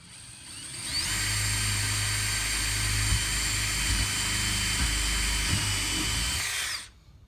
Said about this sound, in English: we'll try to just drill all of our holes